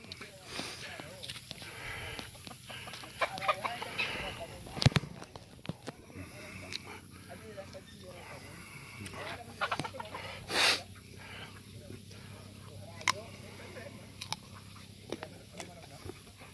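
Chickens cluck and squawk around a farm chicken coop, scattered calls rising at moments, with people talking over them throughout and outdoor noise in the background.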